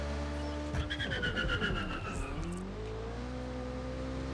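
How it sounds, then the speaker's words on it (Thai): A car engine in Watch Dogs: Legion revs up and drops sharply through a gear shift, then settles into a steady hum, with a brief whine of rising pitch over a continuous engine drone. "ชอบเสียงเปลี่ยนเกียร์จริงๆ"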